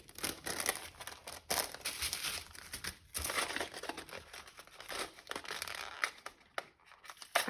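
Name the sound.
opening a paper envelope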